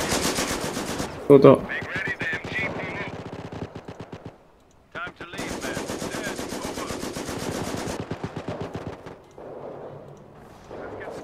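Bursts of machine gun fire from a Company of Heroes battle, with rapid rattling volleys running through most of the clip and pausing briefly midway, while a player talks over the shooting.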